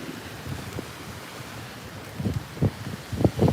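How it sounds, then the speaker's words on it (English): Ocean waves break on a beach at sunset as steady wind buffets the microphone, with several louder low surges near the end and no voices. "Yeah, the waves are really cool."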